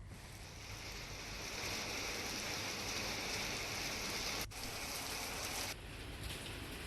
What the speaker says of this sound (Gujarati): પવન સાથે વરસાદ વરસ્યો હતો